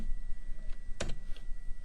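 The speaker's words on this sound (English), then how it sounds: "we'll type in scenery" Keys clatter on a computer keyboard in a quiet indoor room, a few soft scattered taps around one sharp louder keystroke, close and alone.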